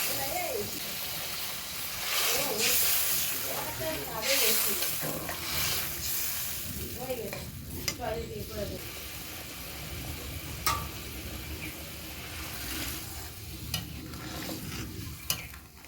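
A fish curry simmers in a pan with steady bubbling and sizzling, and stirring noises rise and fall close by while a person talks over it.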